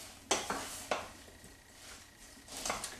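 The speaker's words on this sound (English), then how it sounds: "First I want to really mix it up so the flour and the spices go through the apples." Apples tossed with flour, allspice and cinnamon in a bowl for a pineapple cream cheese strudel, giving a few sharp scraping and clinking stirs against the bowl spaced over a soft background, close and moderately loud.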